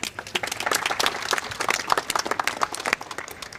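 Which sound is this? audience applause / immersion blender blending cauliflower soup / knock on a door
audience applause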